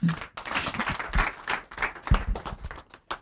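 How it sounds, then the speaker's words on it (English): Clapping on a Nigerian radio call-in program, short bursts of hand claps in an uneven rhythm with brief pauses, close to the microphone. "I'm gonna clap for him."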